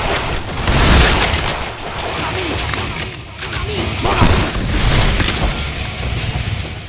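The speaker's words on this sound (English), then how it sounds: "I am shooting you!" Heavy booming gunfire and blasts from the Deadpool action video game roll on almost without pause, loud and close, while someone talks excitedly over the din.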